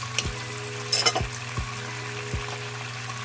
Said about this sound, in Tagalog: ilagay ko na yung aking sibuyas